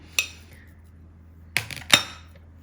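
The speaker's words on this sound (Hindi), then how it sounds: "मैं अपने मैश पोटैटो डाल रही हूँ इस तरह की एक छोटी सर्विंग डिश में।" Mashed potatoes spooned into a small serving dish, heard as three sharp clinks of a spoon on the dish, one alone and then two close together, in a quiet room.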